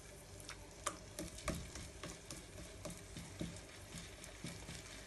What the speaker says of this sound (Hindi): तो बस हमने दोनों तरफ से गोल्डन फ्राई कर लेने हैं। मीडियम फ्लेम पे